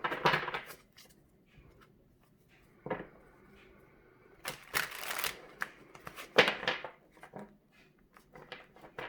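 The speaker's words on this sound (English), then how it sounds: "One more shuffle." Tarot cards shuffled by hand in a quiet room, several crisp riffling bursts and softer sliding rustles, close and clear with no talking.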